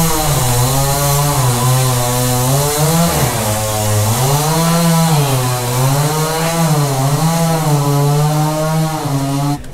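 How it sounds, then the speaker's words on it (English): A gas edge trimmer runs nearby, a loud, buzzing two-stroke engine drone that wavers up and down in pitch as the throttle shifts, continuous throughout with no talking. "Got the edge trimmer out, sorry."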